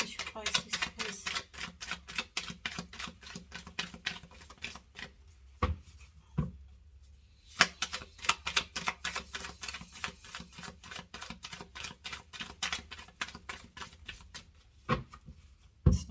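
Rapid crisp riffling and slapping of a shuffled tarot card deck, continuing in bursts with brief pauses, close and fairly loud.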